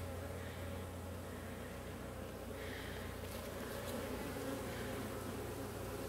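Honey bees buzz steadily inside a traditional hive during an autumn colony gathering, a dense, continuous drone that holds at an even level throughout with no voices.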